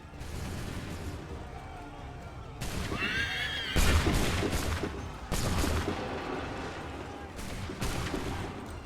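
Musket volleys crack out in Assassin's Creed 3 as bursts of gunfire hit several times over a battlefield din, mixed with horses whinnying and hooves; a voice shouts commands between the shots.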